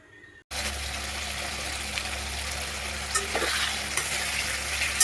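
Hot white oil with a little ghee sizzles steadily in a pan, a dense continuous crackle starting abruptly and staying loud and close, with a few sharper pops.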